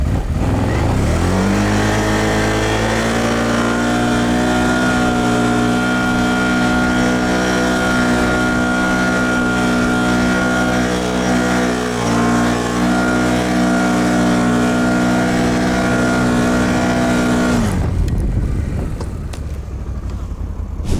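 Quad bike ATVs ploughing through deep snowdrifts give a loud, close engine drone that holds a steady strained pitch for most of the stretch, then cuts away abruptly near the end.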